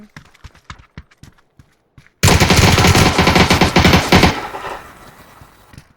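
After a few soft clicks, gunfire from a fighting video game breaks out as one loud, rapid burst lasting about two seconds, then trails off into a fading echo.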